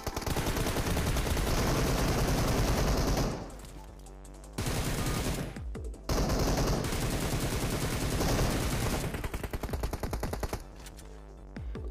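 Rapid automatic gunfire crackles in a 1v2 fight in PUBG Mobile on the Erangel map, loud sustained bursts broken by short pauses, with a few single shots near the end.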